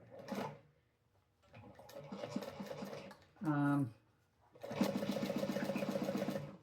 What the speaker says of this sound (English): Sewing my gusset onto my main piece here now